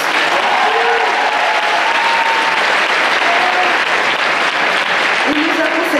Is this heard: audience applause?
yes